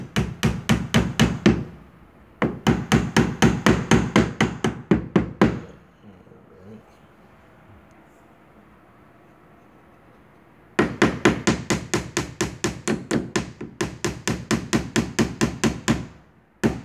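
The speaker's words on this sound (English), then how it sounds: "just about done hammering this." Hammer blows drive wood into a broken door frame during a repair, landing as rapid, loud, close strikes in two long steady bursts separated by a quiet pause.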